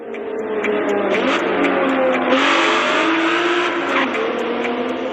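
Race car engine in Forza Motorsport, pulling off to the side of the road: a loud, close engine note that rises and shifts pitch through gear changes, continuous for a few seconds with no talk.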